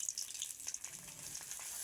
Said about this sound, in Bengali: সুজিগুলো আমি ভালো করে ভেজে নেব।